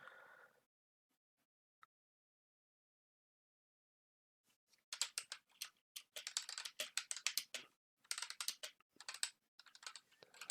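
Rapid typing on a computer keyboard during a typing speed test, a dense run of close, crisp key clicks that starts after a stretch of near silence and continues in quick bursts.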